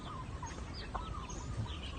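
Domestic chickens kept on a Thai farm cluck faintly through dense, steady background noise, giving a few soft calls and chirps against a constant outdoor hum.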